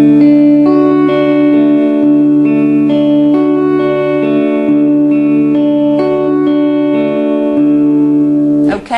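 Acoustic guitar plucking a repeating chord pattern for a song, steady fingerpicked notes cycling smoothly over and over, loud and close, with no talking.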